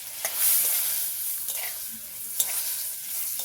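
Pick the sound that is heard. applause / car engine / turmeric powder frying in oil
turmeric powder frying in oil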